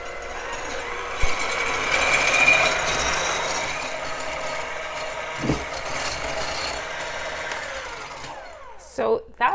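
A handheld electric mixer with a whisk attachment beats egg whites for Greek almond cookies, a steady close mechanical whir with a faint rubbing texture that runs unbroken, then cuts off near the end with a few brief knocks.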